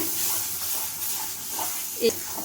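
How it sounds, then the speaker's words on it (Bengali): A spoon stirs mango chutney in a pan, soft scraping and a low sizzle running steadily, with one sharper knock near the end. "এবার আমি ভালোভাবে নাড়িয়ে নেব।"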